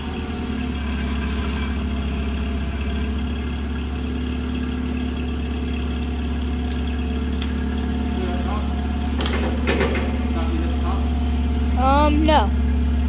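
A Toyota forklift engine idles steadily in a shop, a low continuous rumble with a few clanks and squeaks near the end and a person speaking over it.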